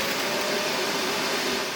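Dreametech H11 Max wet and dry vacuum running in dual boost mode, giving off a steady, loud broadband whir and hiss that holds unbroken at one level, with no voices.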